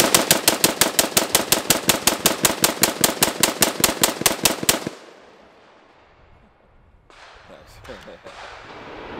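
A PSA JAKL rifle fires a rapid string of about two dozen evenly spaced, loud gunshots outdoors. After a pause, fainter distant shots follow.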